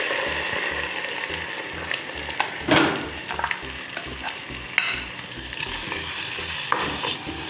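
Curd being mixed into ginger kichadi, with soft scraping and stirring scuffs over a steady rhythmic mechanical ticking in the background, close and moderate, with no talking.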